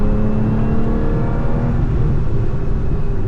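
Lotus Emira sports car on a race track with traction control on, a steady loud engine drone heard from the cockpit with the pitch holding and then easing slightly, no talking.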